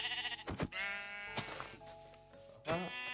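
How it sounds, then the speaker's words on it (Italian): Sheep in the video game Minecraft bleat several times in a row, with loud, wavering cries separated by short gaps and a faint voice underneath. "Un'altra pecora."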